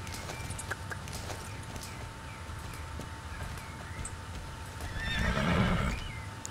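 Horse in the video game Star Stable, clip-clopping hooves over a steady game soundscape with a louder whinny and movement swelling near the end.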